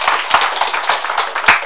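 An audience claps at a numerology graduation ceremony, a quick, steady run of close, sharp handclaps lasting under two seconds.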